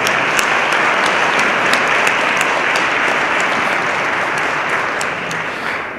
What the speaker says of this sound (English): I'd appreciate it if you'd give a round of applause to the advisory committee